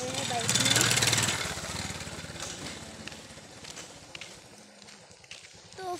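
A motorbike rides past on a road near a garden nursery, its engine swelling loudly at first and then fading as it moves away, with someone talking over it.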